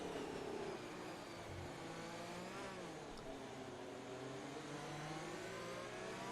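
A field of race cars in F1 2020 revving together at a race start, a dense, continuous whine of high-pitched engines climbing and overlapping, steady and fairly loud.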